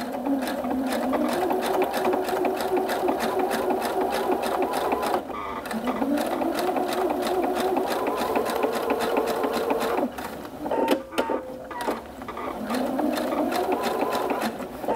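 A sewing machine stitches two layers of fabric in long runs of fast, even rhythmic clatter, close and loud, with brief pauses and slower bursts between runs.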